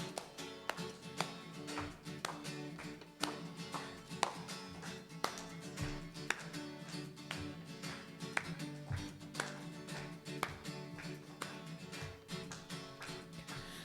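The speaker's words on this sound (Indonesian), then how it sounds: "Mari tepuk tangan bersama-sama." A church congregation claps together in a steady, repeated rhythm along with worship music. The sharp claps continue evenly throughout with little talking.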